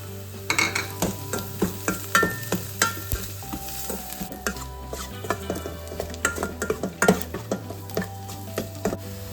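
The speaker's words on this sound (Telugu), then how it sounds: "ఇప్పుడు ముందుగా ప్రిపేర్ చేసుకున్న మసాలా పొడి కూడా వేసేసి బాగా కలుపుకుందాం" Spatula stirring masala powder and turmeric through hot oil in a frying pan for a spicy Andhra-style egg fry, with steady sizzling beneath a quick, repeated rhythm of close scraping strokes.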